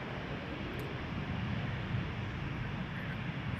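Steady broadband roar of an Embraer jet airliner at Toronto Pearson Airport, heard from a distance as a continuous, even engine wash with no voices.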